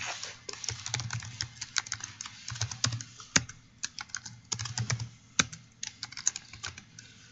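Code being typed on a computer keyboard, with quick irregular key clacks and occasional heavier strokes, close and steady for several seconds with no talk.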